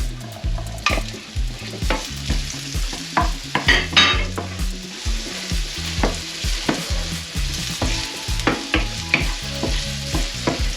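Diced Iberian ham cubes fry in a pan for sautéed clams, with a constant sizzle broken by repeated clatters of stirring and scraping, close and loud, with no talk.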